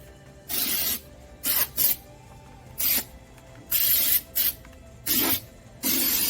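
Undercoating sprayed from an aerosol can onto the belly of a Suzuki Samurai in repeated short hissing bursts of about half a second each, separated by brief pauses.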